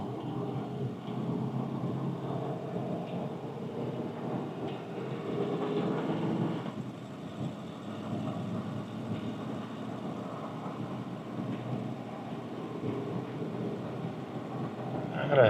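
A 1962 Rolls-Royce Phantom V limousine with James Young coachwork cruising at about 25 mph, a steady low engine and road rumble heard from inside the cabin, continuous and moderate throughout.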